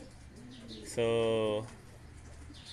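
Ornat Kittel fancy pigeons, all white, give a single loud, sustained harmonic coo lasting about half a second, standing out clearly above faint background noise and a brief spoken word.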